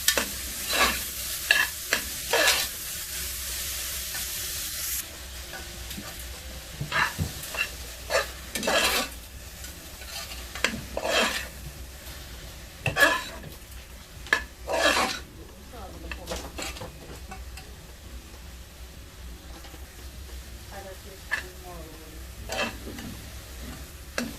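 Onions sauté with salt in a pan for a Kerala beef varattiyath. A spoon repeatedly scrapes and stirs against the pan over a steady soft sizzle, with occasional louder clatters and no talking.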